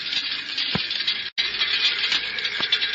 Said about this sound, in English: that's the sound of tiny particles of road dirt and dust hitting the body of your car.